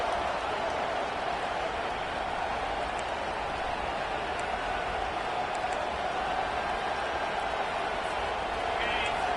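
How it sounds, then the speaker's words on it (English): Stadium crowd at a college football game roars steadily and loudly throughout, a dense sustained wall of cheering noise with no pauses. "Listen to this crowd just shaking the girders of this place trying to help their defense."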